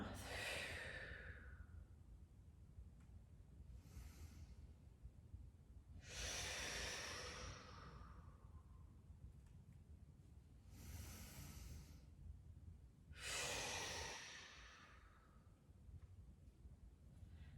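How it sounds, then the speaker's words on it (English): Slow, deep breaths drawn in through the nose and let out through the mouth during a children's yoga session, five soft breaths spaced a few seconds apart and heard alone against a quiet room. "let's take a few deep breaths in through your nose, out through your mouth."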